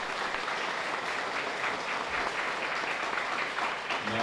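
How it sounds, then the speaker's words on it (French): Steady, dense applause from a crowd at an Agriculture Ministry ceremony honouring the director, a continuous even roar of clapping that holds at full strength from start to finish with no voices. "Nous avons applaudir encore le directeur Philogène."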